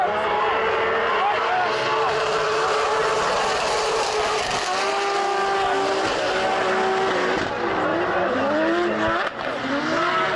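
Drift cars on a Russian Drift Series track run in tandem, engines roaring and tires squealing in wavering sustained tones, fairly loud and steady, while a commentator talks over the action.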